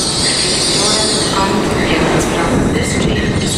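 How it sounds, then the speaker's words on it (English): An LNER train, an electric or bi-mode unit on the East Coast Main Line, rolls into Edinburgh Waverley station as a terminating service from London King's Cross. Steady loud rumble with wheel squeal, and speech can be heard over it. "arriving in now is a terminating LNER service from London King's Cross"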